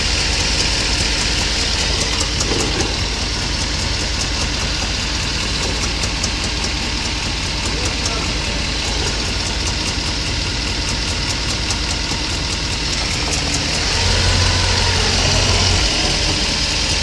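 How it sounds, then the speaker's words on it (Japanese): A Mercedes-Benz W124 500E V8 idles with a steady, dense engine drone and a faint knocking noise coming from the front of the engine, continuous and close with no talk over it. "エンジンの前の方から鳴ってんね、これは。"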